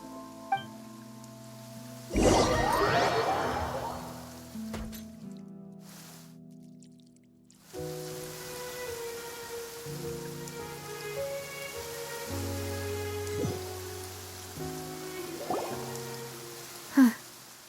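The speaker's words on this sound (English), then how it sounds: "It's been raining non-stop for a few days now." Steady rain patters through a Genshin Impact scene, a soft continuous hiss sitting under melodic game music, with a brief louder splash near the start and a sharp tap close to the end.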